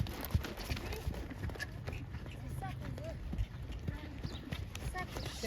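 A horse trots during a riding lesson, its hooves clip-clopping in a steady rhythm at moderate distance. People talk over the hoofbeats throughout.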